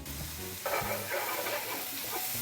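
Onions, garlic, thyme and paprika sizzle in a pot for a chicken liver stew as they are stirred through. A steady hot sizzle is joined by louder frying and scraping once the stirring picks up, close and continuous.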